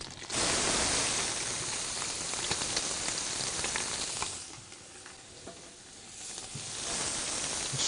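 Onion sizzling in a hot frying pan, a dense steady crackle and hiss like rain, loud at first, easing slightly in the middle and building again toward the end.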